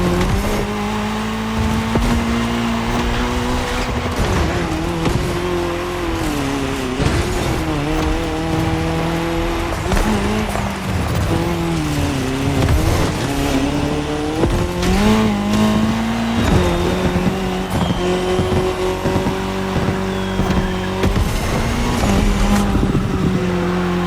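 Race car engines roar and rev through constant gear changes, with tyres on tarmac in a cross-terrain race in The Crew Motorfest, loud and sustained with rising and falling pitch and no talk.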